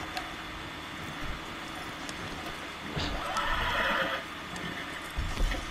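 A horse whinnies in an outlaw western video game, a loud neigh rising midway over a constant mechanical background hum, with faint hoof and game sounds around it.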